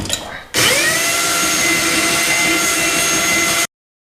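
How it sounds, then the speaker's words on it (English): A belt sander, used to flatten a leaking part on a turbo-swapped Subaru Impreza, spins up abruptly and runs as a loud, steady whining roar for about three seconds before cutting off sharply. "Alright, let's try the belt sander."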